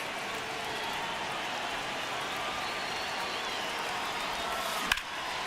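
Steady roar of a baseball stadium crowd in the MLB The Show video game during a tense ninth inning, a constant dense wash of noise with a brief sharp crack near the end.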